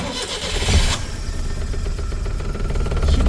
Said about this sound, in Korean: 시동, 아침 첫 시동입니다